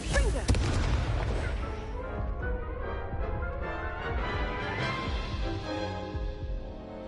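Confringo explosive spell from the Hogwarts Legacy video game: a loud, close booming blast with a sharp crack at the start, followed by a long rumbling decay that fades over several seconds.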